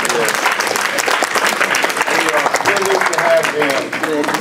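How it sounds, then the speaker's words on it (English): Applause for the teachers at a Cameron High School class of 1966 fiftieth reunion, a dense, steady round of clapping from the room lasting throughout, with some voices mixed in. "Again, let's give our teachers one more big round of applause"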